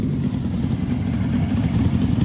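A Jawa motorcycle rides by with a steady, close, low engine rumble and rough, uneven chugging throughout.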